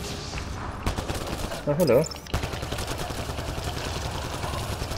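Gunfire from the video game Mass Effect Andromeda crackles in short bursts and a rattling volley, mixed with game sound effects while a person mutters briefly over it.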